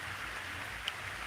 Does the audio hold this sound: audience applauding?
no